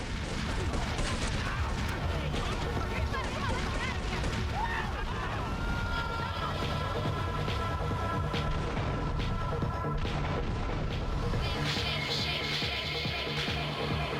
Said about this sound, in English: I was totally intending to get away from those explosions with my masterful driving moves.